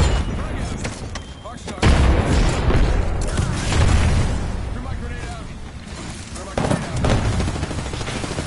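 Apex Legends match with a thrown frag grenade followed by gunfire, dense overlapping shots and booms layered over game effects, with players talking under the noise.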